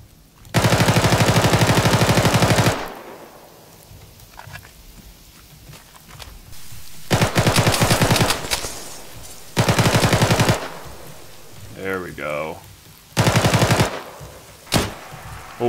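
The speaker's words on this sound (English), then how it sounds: "Where am I being shot from?" Video game gunfire: several long, loud machine-gun bursts aimed at the player, with single sharp shots and softer footstep-like sounds in the pauses between them.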